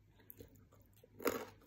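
Crisp crunching from biting into fried anchovy during a mukbang meal with fried basmati rice, a few soft bites then one louder, close crunch near the end, with no talking.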